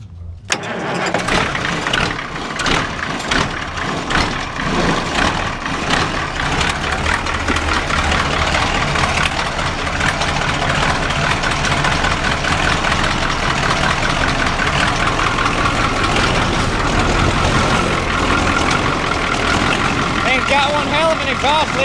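A Ford 4-150 engine cranks and fires up, then settles into a loud, steady, rough-running idle that continues close by for the rest of the time.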